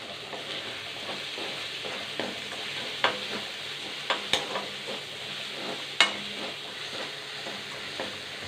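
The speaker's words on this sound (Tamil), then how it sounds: "வெங்காயம் தக்காளி நல்லா வதங்கிடுச்சு." Onion and tomato sauté in a pan for a country-chicken pepper fry, giving a steady broadband sizzle with a few sharp spoon-scrapes and clinks as the mixture is stirred; close and moderately loud, with no voices.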